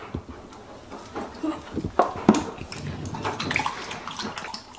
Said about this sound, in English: why do you think dogs drink like this?